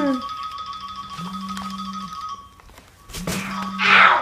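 A mobile phone ringtone plays a repeating electronic melody of bright tones during a family Christmas prank at home, heard fairly clearly while people talk and exclaim nearby.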